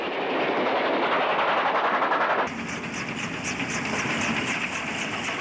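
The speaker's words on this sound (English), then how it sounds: "3827 pulls an up special past the malt factory at Mittagong." New South Wales steam locomotive 3827 hauling an up special train past a malt factory at Mittagong. A loud, continuous rumble and rattle of the passing train changes character partway through, with no voices.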